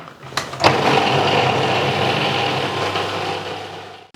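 A blender purees butter chicken sauce, starting with a couple of sharp clicks and then settling into a loud, steady whirring hum that runs evenly to the end.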